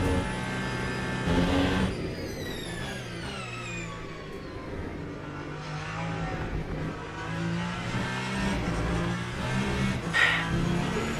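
A Ferrari race car in the Le Mans Ultimate video game revs and climbs through the gears, its engine note rising and falling continuously and steadily loud, with occasional tire squeal.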